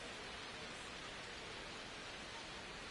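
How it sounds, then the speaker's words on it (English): Steady rain falls over a baseball game in MLB The Show 26, a faint, even hiss of rainfall with no voices and no breaks. "It feels like we might be headed towards a rain delay if the weather doesn't ease up, Chris."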